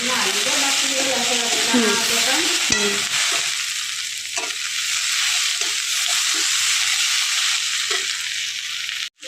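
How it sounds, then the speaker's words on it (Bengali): Potatoes and prawns sizzle loudly in a hot pan, a steady bright frying hiss with stirring scrapes and clatters throughout, strongest in the first few seconds and continuing unbroken to the end. "এর ওপরে আমি আলু আর চিংড়ি মাছগুলো দিয়ে দিচ্ছি।"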